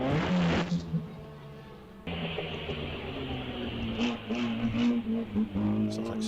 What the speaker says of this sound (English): Michael James on the line with a very, very fast Riley Special.